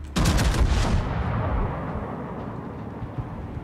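Heavy naval guns boom in a World of Warships naval battle, a loud broadband blast at the start that rolls into a long, dense rumbling decay of distant gunfire.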